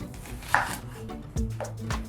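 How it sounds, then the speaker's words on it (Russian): A knife chops an onion finely on a cutting board, making a few sharp, close knocks spaced apart in a quiet kitchen. "мне нужно мелко порубить луковицу и добавить к нему"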